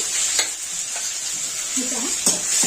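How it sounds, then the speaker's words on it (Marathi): Cumin and mustard seeds sizzle in hot oil with chutney for vada pav potato filling, a close, constant crackling hiss with a few sharp spatula scrapes and stirring knocks, no speech. "आता मी जिरा मोहर टाकलंय सोबतच ही जी चटणी बनवलेली आहे ही पण आपण टाकून घेऊया बटाट्याच्या भाजीसाठी"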